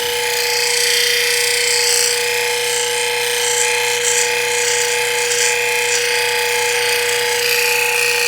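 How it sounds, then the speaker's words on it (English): Lapidary 1200 grit wheel polishing a carnelian cushion-cut gemstone, a steady high-pitched whine with a constant tone and a hissing grind over it, loud and unbroken throughout. "It's a 1200 grit wheel"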